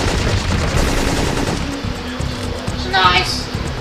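Gunfire in the video game Syphon Filter 3, rapid machine-gun bursts rattling in a fast steady rhythm, loud and close, partly under talking voices.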